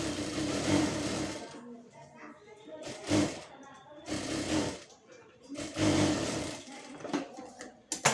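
Sewing machine stitching silk blouse fabric, bursts of fast mechanical whirring that start and stop several times, close by, with a voice talking in between.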